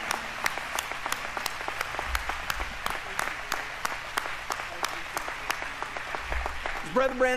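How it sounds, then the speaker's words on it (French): A church congregation applauding for themselves during a service, rhythmic clapping that carries on steadily in a fairly quiet hall, with a voice joining near the end. "Applaudissez pour vous-même"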